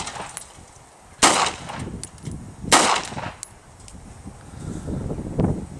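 Two sharp, loud gunshots about a second and a half apart, fired outdoors at a Honda Civic being destroyed, with faint background noise and a softer third report near the end.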